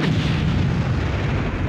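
An enemy tank fires in Army Men 3D, heard as a deep, continuous booming rumble that stays loud and dense throughout, with no speech over it.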